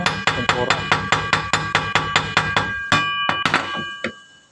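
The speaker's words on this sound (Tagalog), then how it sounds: "Pupukpukin lang ho natin para matanggal yung pintura." A wire clothes hanger being struck with a hammer to knock off its paint coating, a close, loud run of about fifteen evenly spaced metallic blows, then a few irregular hits.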